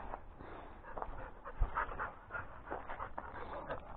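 Dogs playing outdoors pant rapidly and give soft whimpers, close and fairly quiet, with rustling movement and no talk.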